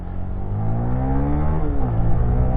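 An RS150FI motorcycle at full throttle, its engine note climbing steadily in pitch through a hard pull, then dipping briefly on a shift before rising again, loud and close with no talking.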